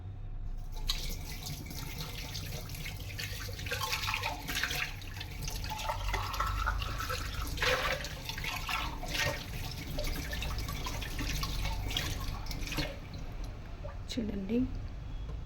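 Copper and brass pooja items are rinsed under running tap water, a steady close splash and trickle with drips and squishy rubbing, while a person talks over it at times.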